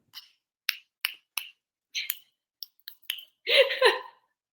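Fingers clicked repeatedly with the right hand: a series of sharp, dry snaps at an uneven pace, close and fairly loud, ending in a denser flurry of clicks, with no talking.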